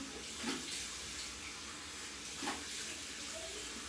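Warm water runs steadily from a tap for washing the face, a continuous even hiss with a couple of slightly louder splashy surges.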